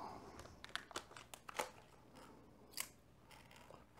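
A plastic smartphone-case baggie is cut open with scissors: several quick snips and crinkles of the thin plastic, fairly quiet and close, with no talking.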